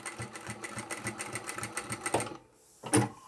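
A sewing machine stitches a small fabric chapstick holder, running in a quick rhythmic chatter for about two seconds, stopping briefly, then a short burst, close up with no talking.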